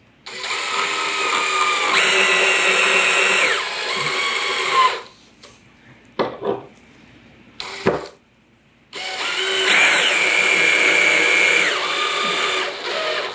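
Power drill driving screws to fasten whitetail deer antlers onto a mount form, running in two long steady bursts at the start and end with a quieter gap of brief clicks and handling knocks between.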